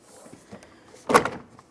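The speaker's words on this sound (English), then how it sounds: "Now we're bringing the door panel towards the door." A single muffled thump of a door panel pressed against a rear door of a 2004-2008 Pontiac Grand Prix, preceded by a few soft handling knocks and rustles.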